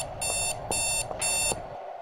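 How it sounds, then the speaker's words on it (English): Alarm clock in the video game A Wolf in Autumn, ringing in three shrill bursts at an even pace over a low hum, loud and close. "Hello, alarm clock."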